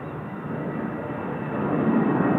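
A jet airliner takes off from runway 34 right at Seoul Incheon Airport, a steady broad engine roar heard from a distance that swells gradually louder over a couple of seconds, with no voices over it.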